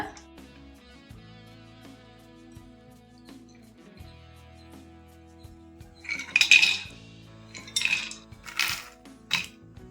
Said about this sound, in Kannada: ಇವಾಗ ಒಂದು ಬೌಲ್ಗೆ ಹಾಕೊಂಡ್ಬಿಡೋಣ ಇದೆಲ್ಲ.